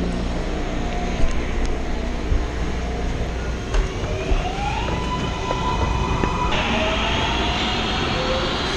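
A MARTA metro train bound for Airport Station, with sustained rumble, rising electric motor whine and tonal squeals as it moves through the station, loud and steady throughout with no voices.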